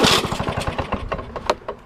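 A two-stroke Lawnboy lawn mower engine fires in a quick run of uneven, popping bursts, close and fairly loud, stuttering as it catches before fading.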